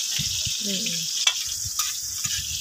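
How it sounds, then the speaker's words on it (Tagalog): Sea meat sizzles as it is sautéed for adobo in a pan, with soft frying hiss and a few brief stirring clatters up close. "Gisa mo muna yan."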